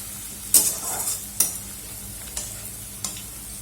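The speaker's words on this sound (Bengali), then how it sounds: "এটাকেও হালকা করে একটু ভেজে নেব।" Green chillies, four of them, frying lightly in a pan, with a soft sizzle under several sharp stirring scrapes of a spatula spaced about a second apart, close and moderately loud with no talk.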